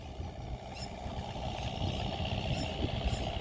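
A farm tractor engine runs slowly in first gear, a faint, steady low rumble with a throbbing texture heard from a distance outdoors, without any talk.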